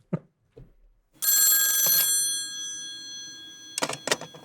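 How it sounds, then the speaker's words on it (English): A telephone rings with a sustained electronic bell tone lasting about a second, loud and close, introducing an incoming call to a paranormal call-in show; brief clicks come before it and handling noises follow. "Let's get into this phone call before we get ourselves in trouble."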